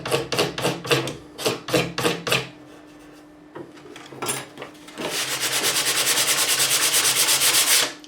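Sanding block worked back and forth across the body of a 1983 Kramer Focus 3000 guitar, starting as distinct rhythmic rubbing strokes, then after a brief pause becoming a steady, loud, continuous rasp of fast sanding, close up.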